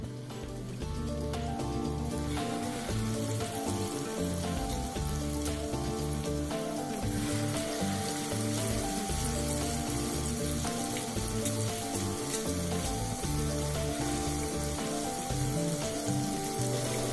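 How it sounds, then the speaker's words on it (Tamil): Masala-coated fish fries in hot oil in a kadai, giving a constant hissing sizzle that runs the whole length beneath loud, steady background music. "மீனை போட்டு எடுக்கலாம்."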